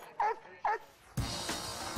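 An Airedale terrier, the largest of the terriers, gives two short, sharp barks close by, followed by a burst of louder noisy commotion.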